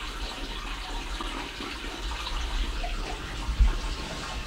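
An aquarium return pump pushes water while the sump drains, giving a steady close gush and trickle of flowing water with a brief louder splash near the end.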